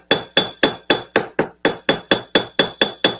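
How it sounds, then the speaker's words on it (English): Steel hammer texturing a metal piece with a JOOLTOOL, a dozen sharp, evenly spaced ringing strikes close up, each with a metallic clink and quick decay, no voices. "We're going to use the hammer to work on this piece."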